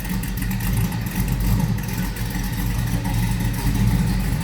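A 1956 Ford F100 stepside street rod pickup with a 351 V8 engine runs steadily from behind, a loud, continuous low rumble with slight rises in revs and no talk.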